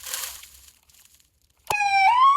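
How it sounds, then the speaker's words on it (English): A cartoon ambulance siren starts abruptly after a short swishing sound and near silence, a loud, close electronic tone that sweeps upward and holds. "The ambulance."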